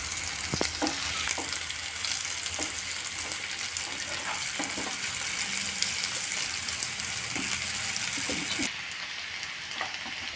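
Paneer pieces, onion and green chillies fry steadily in a pan for a dhaba-style kaju paneer masala, a constant loud sizzle with occasional stirring clicks, no talking.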